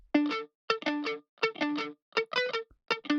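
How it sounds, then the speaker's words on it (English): Dry, distorted lead guitar with no delay, playing short staccato phrases of a cover: clipped bursts separated by clean silences, loud and close. "if I turn off that delay, it'll sound like this."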